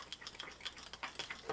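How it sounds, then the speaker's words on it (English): Quiet, irregular clinks and light scraping as a homemade makeup brush soap mixture with coconut oil, scent and red coloring is stirred in a container, close and faint. "so now I'm going to stir it a little bit more"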